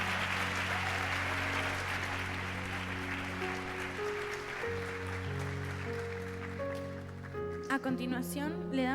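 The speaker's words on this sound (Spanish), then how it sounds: "Retomamos con fuerte aplauso a los alumnos que ensayaron con tanto tiempo y con mucho esfuerzo" An audience claps for students at a secondary school event, a soft, even patter that grows fainter while sustained organ or keyboard chords play, and a voice comes in at the end.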